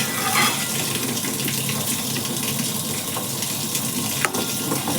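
Water pours steadily into a pan of fish curry with potatoes and oil, a continuous close gushing splash that holds level throughout, with one small knock near the end.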